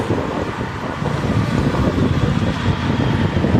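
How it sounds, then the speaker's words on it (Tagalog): Strong wind roars steadily across the microphone, a dense continuous rumble with no breaks, loud throughout. "Sobrang mahangin."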